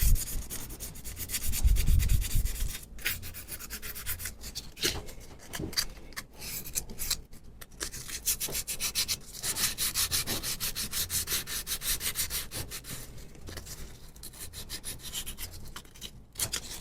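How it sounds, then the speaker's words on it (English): Light hand sanding of wood filler on a Victorian card table, close rhythmic rubbing strokes repeating steadily with brief pauses between passes. "Now this, I just need to do a light sanding again."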